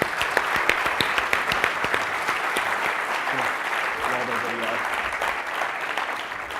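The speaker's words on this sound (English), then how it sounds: "So let's give a big round of applause for Raul and Carlos." An audience at the CODESTRONG 2012 developer keynote claps for Raul and Carlos, a loud, crisp burst of many hands that stays steady, with some talk mixed in toward the end.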